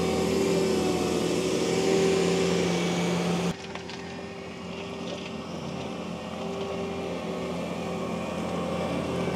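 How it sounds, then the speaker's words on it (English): A Bobcat T86 compact track loader running a Coneteks M rotor attachment over frozen ground, its steady loud engine drone and grinding roar continuous, easing slightly lower partway through before building again. "It compacts everything with smooth roller, levels everything out with the rotor."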